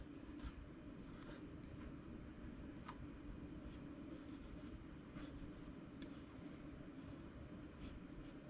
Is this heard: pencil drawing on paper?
yes